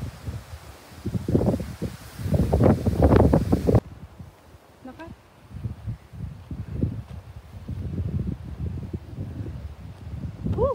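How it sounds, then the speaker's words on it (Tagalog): Gusts of wind sweep a hillside in Batanes and buffet the microphone in uneven bursts, strongest early, then rising and falling again, with someone talking in between. "Mahangin."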